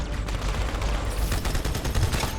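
Rapid automatic gunfire in the video game Halo 2, dense bursts of shots firing continuously and loudly with no talk over them.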